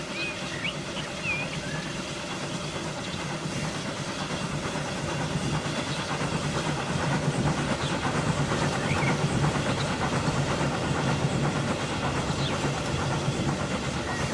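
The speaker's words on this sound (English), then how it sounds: "I can hear a train, so that is what has stopped it." A train in the video game Transport Fever 2 rumbles past steadily, a loud continuous rolling and engine drone that swells slightly midway and holds through to the end, with no talk over it.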